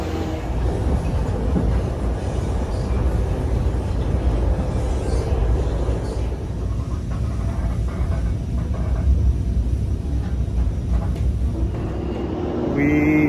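Amtrak passenger train riding along with a steady, loud rumble and rail clatter throughout, with a brief brighter squeal near the end.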